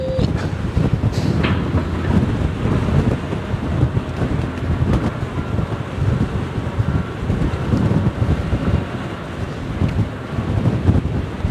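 Strong, gusty wind over the Westerschelde estuary, roaring steadily across the microphone with a churning wash of waves beneath, a dense rumbling texture that never lets up and carries no clear voices.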